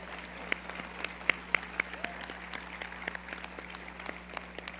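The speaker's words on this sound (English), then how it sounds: "Let's give it a round of applause for the news." A small crowd at an outdoor groundbreaking ceremony claps for several seconds, with sparse, distinct handclaps at moderate distance over a low steady hum.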